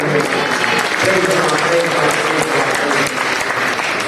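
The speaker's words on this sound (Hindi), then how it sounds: "ताली बजा के" Congregation clapping during a Sunday church service, a steady dense wash of applause that stays loud and even throughout, with voices mixed in underneath.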